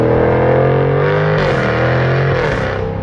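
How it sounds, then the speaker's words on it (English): A Jaguar F-Type R's exhaust roars loud and steady through an upshift as its exhaust valve opens, the note climbing and holding with a raspy, distorted growl. "you can hear when the exhaust valve really properly opens"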